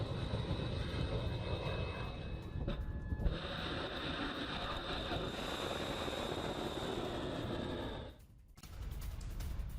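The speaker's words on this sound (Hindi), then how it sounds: "तेहरान के आसमान में ईरानी फाइटर जेट।" Iranian fighter jets over Tehran roar as a steady, broad jet engine rumble that holds for most of the stretch, then dips briefly near the end before resuming.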